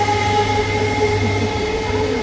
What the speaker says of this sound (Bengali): ওই যে ট্রেন যাচ্ছে